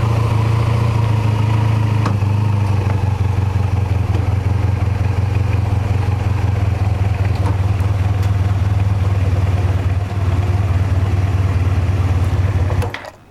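A 1984 Honda 500 Interceptor motorcycle engine idles steadily and loudly up close for over twelve seconds during a clutch test, its even mechanical rumble and clatter unbroken until it cuts off abruptly at the very end.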